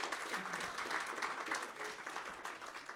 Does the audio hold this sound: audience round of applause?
yes